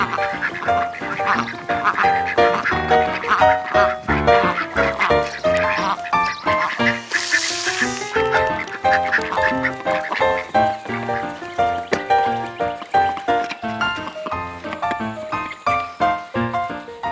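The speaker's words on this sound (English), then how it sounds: "Quack, quack, quack, quack, quack." Several ducks quack repeatedly at feeding time, a dense run of loud, rhythmic calls filling the whole stretch with one brief hissing burst in the middle.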